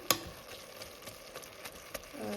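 Beef being mashed and cooked with butter in a pan: a faint, continuous sizzle broken by a few sharp scrapes and taps of a utensil pressing the meat.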